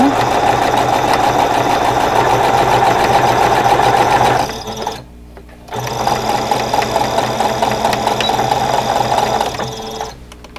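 A sewing machine stitches a fabric face mask with a steady, fast mechanical whir. It stops briefly near the middle, then runs again at the same pace.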